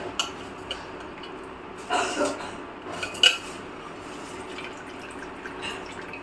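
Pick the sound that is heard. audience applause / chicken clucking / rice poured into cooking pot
rice poured into cooking pot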